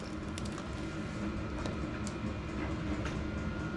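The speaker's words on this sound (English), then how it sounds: "I just fired up the diesel heater, so I'm going to have to talk over it again" A diesel heater runs inside a small welding shop, giving a loud, steady broadband roar with a low rumble that holds constant throughout, with a few faint clicks and ticks on top.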